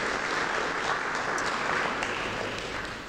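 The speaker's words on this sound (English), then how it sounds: "I think we should give them a big round of applause." Applause from the audience at a Chabad of Melbourne CBD event honouring the Rabbi, a steady dense wash of many hands clapping close and loud throughout, easing slightly near the end.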